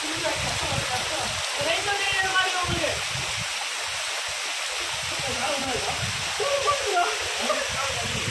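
Aagaya Gangai waterfall in the Kolli Hills roars as a loud, steady rush of falling water, close and continuous, with a person talking over it throughout.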